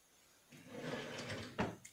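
A drawer of a dresser in a baby's room slides open or shut with a soft wooden rumble and a brief knock at the end, close and quiet, with no talking.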